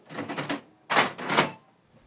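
4x6 glossy photo paper being loaded into a Canon Maxify MB2150 printer, two close bursts of papery rustling and plastic clicking separated by a short pause, with no talk.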